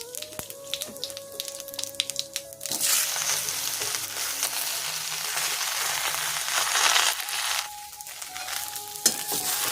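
Papaya pieces fry in a pan tempered with whole cumin, turmeric and salt, giving a soft continuous sizzle with scattered crackles, moderately quiet and close, with faint tonal background noises at the start and end and no talking.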